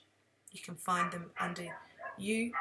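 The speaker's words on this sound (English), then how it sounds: "Please excuse the dog barking next door." A neighbour's dog barks and yips in short bursts off to the side, its calls overlapping with a person talking steadily close by.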